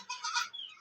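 A goat gives one short, thin bleat in a farmyard, nearby and fairly soft, lasting under a second with no voices.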